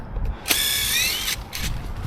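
A power drill whirs briefly at high speed while removing screws, then a second shorter burst, close by with a clattery mechanical edge.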